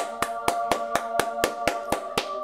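Eleven sharp hand claps in an even, quick rhythm, close and crisp, with a faint tonal hum beneath them.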